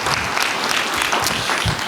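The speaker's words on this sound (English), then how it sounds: "please give it up for a round of applause" Dense, continuous clapping from an audience at a sheriff's citizens' academy graduation fills the room throughout, a warm round of applause without any talking.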